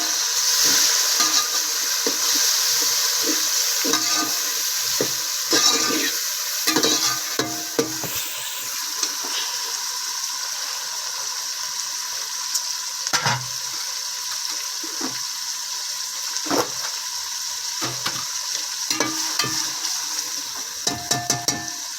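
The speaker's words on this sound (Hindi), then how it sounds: "अब मैंने ये टमाटर डाल देंगे" Chopped tomatoes sizzle and fry in a pan for chana pulao, a steady loud hiss throughout, broken by scraping and clinking strokes of a spoon stirring at irregular intervals.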